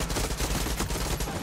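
Bursts of automatic gunfire in the shooter game Far Cry 6 come in quick, loud rhythmic volleys of several shots each, close and continuous across the moment with no speech.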